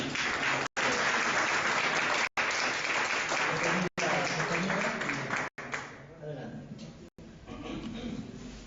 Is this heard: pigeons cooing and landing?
no